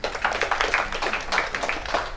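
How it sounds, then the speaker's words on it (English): A school audience claps together at a gathering with speeches, a brisk, fairly close patter of many hands that stays even for a couple of seconds with no talking over it. "Let's clap for our school."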